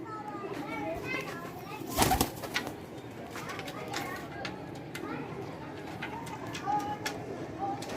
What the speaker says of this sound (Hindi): ओरिजिनल सियालकोटी कबूतर।